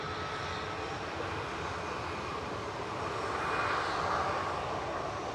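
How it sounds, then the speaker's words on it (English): A SunExpress Boeing 737 MAX 8 touches down at Manchester airport, a steady distant jet roar with a broad hiss that swells slightly toward the end, heard without any voices. "Sun Express just touching down from Dalaman with flight 3504"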